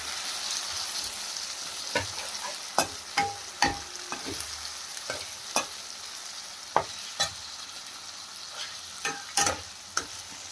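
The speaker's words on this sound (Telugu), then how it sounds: "తర్వాత మనం కలిపెట్టుకున్నటువంటి టమాటాలు వేసుకోవాలి." Tomatoes frying in a pan with chili paste for an egg and tomato dish, a soft steady sizzle broken by a dozen or so sharp scraping knocks of a spoon stirring against the pan, close by, with no voices.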